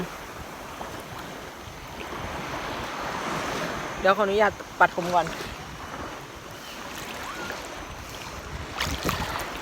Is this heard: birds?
no